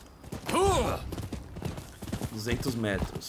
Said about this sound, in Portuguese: tamo de cavalo, vamos rapidinho então